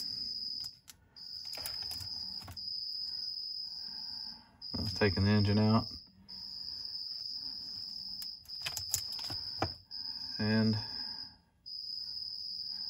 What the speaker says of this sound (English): Sorry about that cricket. That's loud.